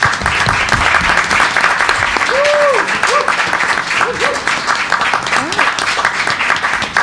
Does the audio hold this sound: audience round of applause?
yes